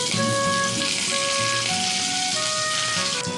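Curry leaves dropped into hot oil with mustard seeds, a loud, dense crackling sizzle that runs steadily throughout, close and without talk, a faint tonal hum running underneath.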